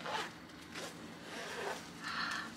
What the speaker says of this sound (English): Unzip that.